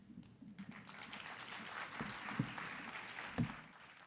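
Applause from a symposium audience at an innovators pitch event, a steady wash of clapping with a couple of sharper thumps, moderately distant and fairly quiet.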